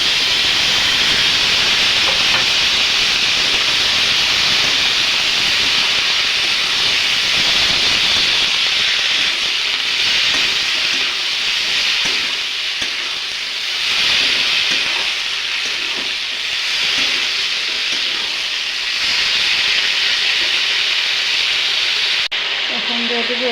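Cut, washed potatoes sizzling as they fry in oil, a loud continuous hissing crackle that persists throughout with faint stirring beneath it.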